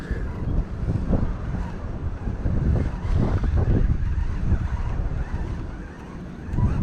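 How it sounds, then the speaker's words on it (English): Wind gusting steadily across a local pond during a fishing trip, a continuous loud rushing buffet on the microphone with low rumbling surges and no talking. "Now the wind's trying to turn us around the opposite way"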